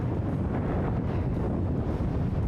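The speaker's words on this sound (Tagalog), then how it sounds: "malakas ang alon." Strong sea waves surge and wind blows hard along an island shore, forming a loud, steady roar with heavy wind buffeting on the microphone and no voices.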